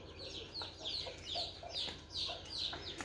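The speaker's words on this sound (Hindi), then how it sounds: "ये सील मुर्गी है और उसके बच्चे हैं सारे पानी पीने आए हैं इधर।" A hen with her chicks gathers at a water dish, clucking and peeping in a steady run of short, repeated calls close by, with no voices.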